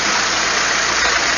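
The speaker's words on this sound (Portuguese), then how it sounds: "Motor funcionando redondinho." An Opel Astra engine idles smoothly and steadily in a mechanic's garage during a valve replacement job: a continuous, even mechanical hum close by, with no voices over it.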